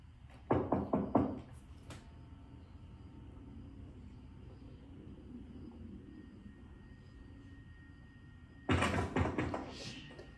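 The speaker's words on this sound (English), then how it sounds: "Someone started to bang on the front door" Heavy fists bang on a front door in two loud bursts of rapid knocks, one at the start and another near the end, separated by a long low hum in a quiet room.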